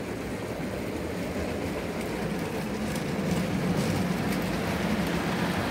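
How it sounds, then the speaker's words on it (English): A long model railway wagon train with Mark II couplings rolls steadily around a layout, giving a continuous low rumble and rattle at an even level throughout, with no voices. "I think this is the longest wagon train we've had on here"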